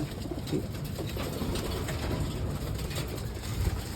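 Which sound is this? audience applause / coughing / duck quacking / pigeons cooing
pigeons cooing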